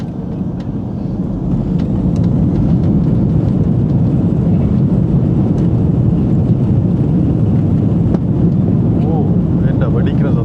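A steady, loud engine roar fills a SriLankan Airlines aircraft cabin in flight, constant and droning throughout.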